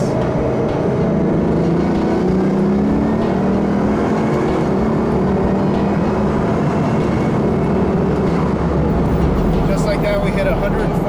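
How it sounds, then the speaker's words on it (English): Bugatti Veyron Super Sport accelerating hard, a loud sustained engine roar with rising pitch that builds over several seconds, heard from inside the car, with someone talking over it. "When you step on the acceleration pedal, on the gas pedal, the thing just goes."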